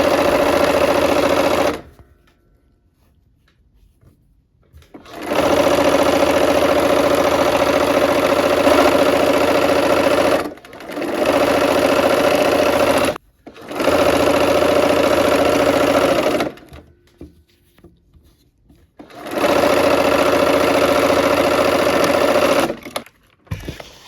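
A sewing machine stitches a quilt in several loud, steady bursts of fast mechanical whirring, each a few seconds long, separated by brief quiet pauses.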